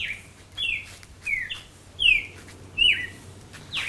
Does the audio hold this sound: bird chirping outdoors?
yes